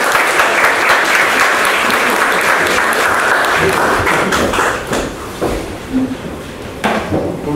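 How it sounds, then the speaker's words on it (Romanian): An audience applauds at a conference presentation at Impact Hub Bucharest, with dense, loud clapping that thins into scattered claps toward the end, and some voices underneath. "Aplauze!"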